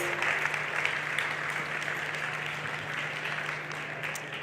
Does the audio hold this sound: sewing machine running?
no